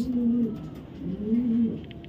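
A racing pigeon from a foreign bloodline, sold as a Mili type, gives two loud, close, drawn-out coos about a second apart. Each is a steady droning hum with no talking over it.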